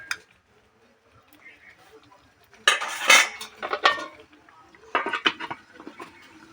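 A metal lid is pressed down onto a pot of chicken curry, making a clatter and several scraping clinks at close range against a quiet background.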